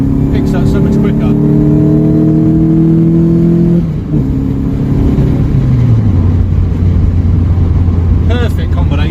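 A car engine fitted with a lightweight flywheel revs up and climbs in pitch, then drops and settles lower while driving, loud and close, with road rumble underneath.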